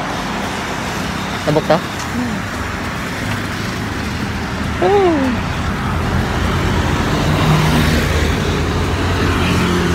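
Steady traffic noise from a highway in Guadalupe, Cebu City, a continuous broadband roar of passing cars and motor vehicles, with people talking briefly over it.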